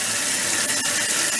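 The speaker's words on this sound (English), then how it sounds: "It's refilling with water." A toilet tank refills after a Fluidmaster kit repair, a steady close rush of running water lasting under two seconds with no voices.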